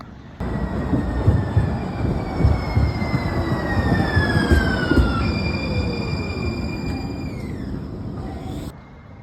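Steady rumble of a train rolling along the rails, with long high metallic squeals gliding down in pitch as the wheels grind through a curve.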